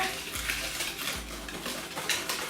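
A utensil stirs milk into a vanilla gelato base of sugar, eggs, syrup and extract, with soft, steady liquid swirling and a few light clinks against the bowl, quiet and continuous.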